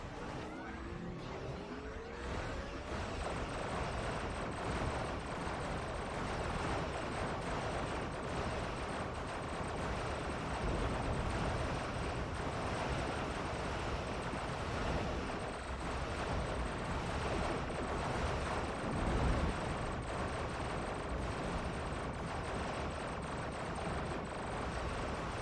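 A Gatling emitter weapon in a video game fires continuously for a long stretch, a steady, dense rattling roar with no breaks, joined by low rumbling explosions and distant impacts, moderately faint overall.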